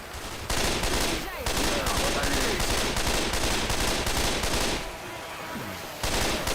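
Sustained automatic gunfire from a Left 4 Dead 2 co-op shootout, rapid overlapping bursts of loud shots nearly continuous across the clip, dropping briefly before resuming at the end.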